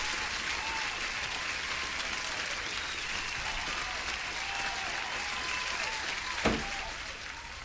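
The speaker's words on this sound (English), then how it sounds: "Let me give you an applause." Steady crowd-applause sound effect plays on a live day-trading stream, a dense continuous wash of clapping with a brief louder hit near the end.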